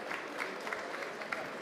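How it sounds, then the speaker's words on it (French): An audience at a French-language public event applauds, a dense, even patter of many hands clapping at moderate distance, steady for the whole stretch without pause. "Sous vos applaudissements, s'il vous plaît."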